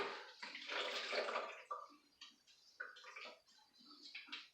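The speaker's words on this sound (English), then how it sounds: "we're going to have to put a little more water in my cleanup bucket here" Water is poured into a drywall-mud cleanup bucket during a bathroom remodel, first as a loud continuous splashing stream, then as smaller trickles and splashes that taper off.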